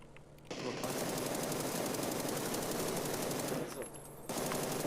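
Rapid automatic gunfire in a video game firefight plays as a steady, dense stream of shots that runs almost the whole time and drops off briefly near the end. The shots are moderately distant and sit under faint talk.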